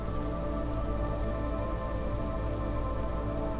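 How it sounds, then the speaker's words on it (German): Steady hiss of heavy rain and storm in the video game Against the Storm, a dense, unbroken wash of drops with no talking. "So, wir haben auf jeden Fall jetzt hier ordentlich Regen. Sturm, um genau zu sein."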